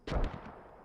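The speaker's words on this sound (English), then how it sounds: "Those mortars are falling right on the Germans" A single mortar shell bursts in Post Scriptum, a sharp, heavy thump with a short rumbling tail fading into distant battlefield noise.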